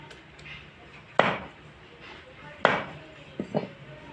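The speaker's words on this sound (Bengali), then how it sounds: "এবারে আমি কেটে নেব।" Raw chicken feet being chopped with a knife on a board, three or four sharp, separate thuds spaced a second or so apart, with quiet talk in between.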